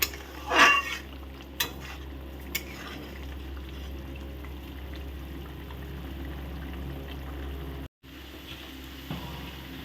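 Pumpkin leaf paste is stirred in oil in a pan: a low continuous frying hiss with a few scattered scrapes and knocks of a spoon against metal, close up and moderately quiet.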